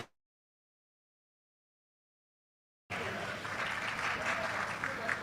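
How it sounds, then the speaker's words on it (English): After a few seconds of silence, an audience at an annual leadership lecture breaks into sustained applause, a full, close clapping that swells slightly and holds to the end. "Ladies and gentlemen, a round of applause for him"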